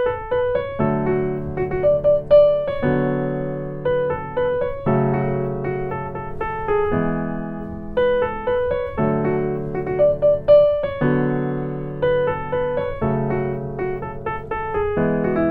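Piano runs through chord inversions from a song, a steady pattern of repeated chords with small melodic notes on top, cycling twice over about fifteen seconds, close and unaccompanied.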